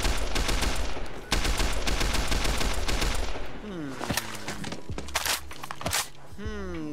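Sustained automatic gunfire in the military shooter Arma 3, a dense rapid fusillade for several seconds, then scattered single shots and bursts with whooshing effects as someone talks over it.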